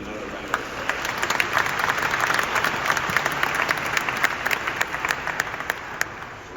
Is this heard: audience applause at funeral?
yes